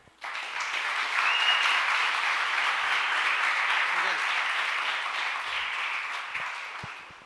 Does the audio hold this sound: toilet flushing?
no